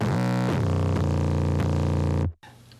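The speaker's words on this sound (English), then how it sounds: "this is basically just a distortion box, and it gets really aggressive." A deep 808 bass, heavily distorted through an aggressive distortion plugin with a low cut, buzzes loudly with gritty harmonics, shifting pitch a few times before cutting off sharply.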